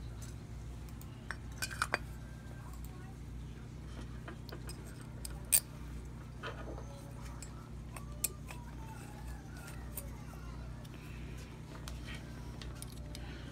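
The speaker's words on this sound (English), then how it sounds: "I'm going to stick the KE100 bowl on the new carburetor." A Suzuki KE100 carburetor float bowl is fitted onto a new carburetor. Sparse, faint metallic clinks and small clicks sit over a steady low room hum.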